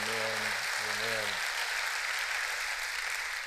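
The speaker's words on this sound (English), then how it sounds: "Why don't you give Jesus a hand clap of praise today?" A church congregation claps hands in praise with a dense, continuous patter of applause, while a voice speaks briefly over the start.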